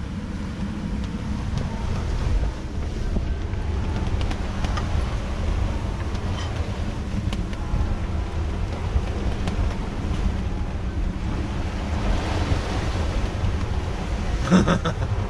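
Strong wind over 30 knots roaring across a sailing boat in squalls on a rough crossing, a loud, steady rush of gusts and wind buffeting on the microphone with sea wash, no talking.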